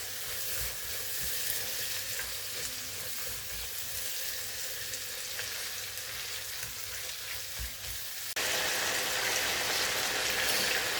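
Dried fish (shutki) fries in hot oil in a constant, dense sizzle with faint stirring scrapes, close and steady throughout, growing slightly brighter and louder near the end, with no speech.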